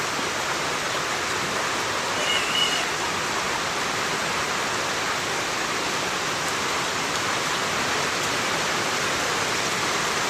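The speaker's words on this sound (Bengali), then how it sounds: "দেখছেন বাইরে ভাই কি পরিমাণ বৃষ্টি হইতেছে" Heavy rain pours outside a flooded duck farm, a dense, unbroken hiss of falling water that holds steady and moderately loud for the whole stretch, with no talking.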